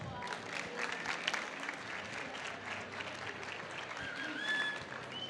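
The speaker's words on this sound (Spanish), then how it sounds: "Le damos un aplauso para recibir a Luz." Conference audience applauding to welcome a speaker on stage, a steady dense patter of clapping with a few cheers and a whistle near the end, moderately distant.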